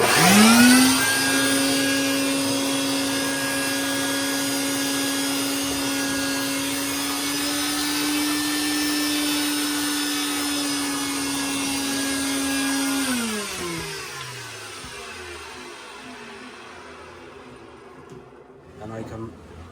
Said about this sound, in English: My vacuum is ready. We're gonna turn it on.